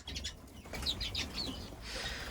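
Small songbirds such as canaries and finches chirp and twitter close by in an aviary flight, a busy overlapping chatter with faint wing flutters and no speech.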